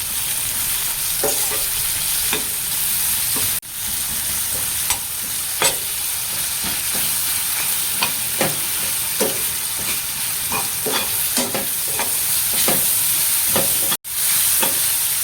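Cowpea bean pieces, salted, frying in a pan and stirred now and then, a steady close sizzle broken by scraping spoon strokes throughout.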